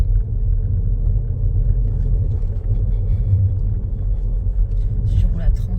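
A car rolls slowly along a town street during a driving lesson, its low engine rumble and road noise steady and close from inside the cabin throughout, with people talking.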